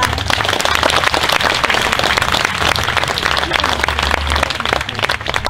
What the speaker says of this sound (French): Applaudissez ces preux chevaliers.